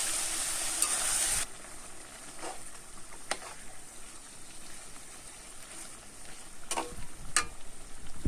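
Marinated meat frying in oil with cardamom, cinnamon, cloves and bay leaf, a loud hiss at first that settles into a steady low sizzle, broken by a few sharp clinks of a spatula against the pan.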